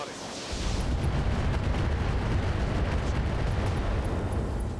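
Weapon fire from an AX weapon in the BattleTech video game with the RogueTech mod, a loud, sustained roaring blast that starts abruptly after a brief hush and rumbles on steadily.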